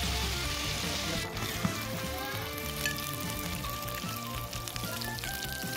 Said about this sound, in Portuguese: adicionar um pouquinho de azeite e duas colheres de manteiga. Deixa derreter e agora adiciono o bife.